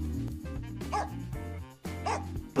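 A dog in a Minecraft-style life game yaps and barks several times in quick bursts over a busy music bed, the barks close and fairly loud.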